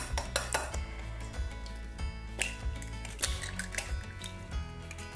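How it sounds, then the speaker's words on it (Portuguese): Three eggs cracked into a bowl in a home kitchen, heard as a series of sharp shell taps and clinks against the bowl's rim, close and fairly quiet, with repeated light knocks and a steady low hum underneath. "eu vou pegar uma vasilha e vou quebrar 3 ovos"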